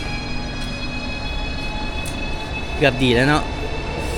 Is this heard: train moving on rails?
yes